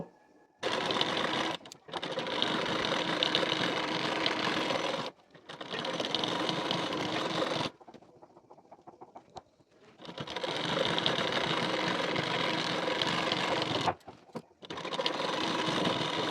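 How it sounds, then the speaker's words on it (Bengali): Sewing machine stitching a folded waistband strip onto a collar-neck blouse, running loud and steady in long continuous bursts with brief stops and a longer pause midway. "ঠিক এখান থেকে বসিয়ে পুরোটা সেলাই দিয়ে নেব"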